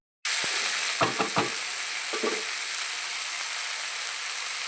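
Sardines sizzle steadily in a hot pan after being turned, with a continuous close frying hiss and a few soft clinks or stirs partway through; no one speaks.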